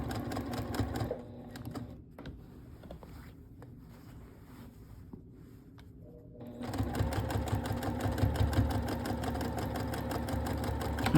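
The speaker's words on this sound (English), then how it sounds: "I'm going to start it with stitching in the ditch over here" Sewing machine stitching in the ditch on a quilted shirt, running in a loud rapid whir, pausing into near quiet for several seconds, then resuming a steady close buzzing stitch to the end.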